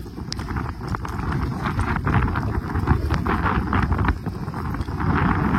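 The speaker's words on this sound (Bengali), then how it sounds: "আর যা হাওয়া" Strong wind buffets the microphone in loud, rumbling gusts over a rainy field, a continuous roar with irregular thumps and no voices.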